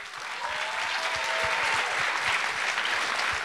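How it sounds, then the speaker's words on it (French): An audience at a student performing-arts show in a college auditorium applauds the volunteer crew, a dense, steady clapping that builds slightly and stays loud for over three seconds. "On peut les applaudir."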